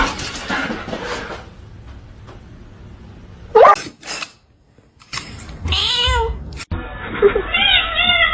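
A kitten meows and cries in several short, close bursts, with a sneeze-like snort, some soft rustling and a brief pause of near silence between calls.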